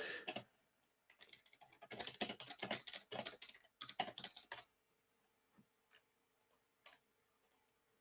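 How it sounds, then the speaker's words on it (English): Computer keyboard typing in quick irregular bursts of clicks for several seconds, close and clear, then thinning to a few isolated keystrokes against silence. "I'm just typing and not saying anything"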